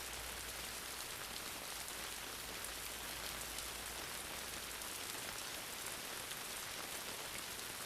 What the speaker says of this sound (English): hearing the patter of each raindrop